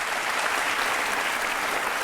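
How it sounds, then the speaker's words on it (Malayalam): Studio audience at a televised courtroom-style interview show applauding, a steady dense wash of many hands clapping, loud and continuous throughout with no voices standing out. "ക്ലാപ്പ് ചെയ്യൂ"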